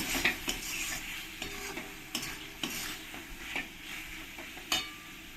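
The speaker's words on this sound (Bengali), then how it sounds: "এই ভাজা আলুগুলো দিয়ে মশলার সঙ্গে একসঙ্গে আমি কষিয়ে নেব" Fried potatoes stirred with spice masala in a hot pan, part of a pomfret fish curry: steady close sizzling with repeated scraping stir strokes, about a dozen spoon scrapes spread across the whole stretch, no talking.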